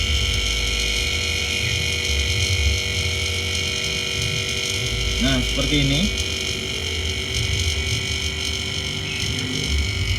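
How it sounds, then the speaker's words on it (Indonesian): A refrigerator compressor runs loudly with a steady, droning mechanical hum throughout, and a voice briefly speaks partway through. "Tapi suara dari mesin kompresor sangat kencang sekali ya"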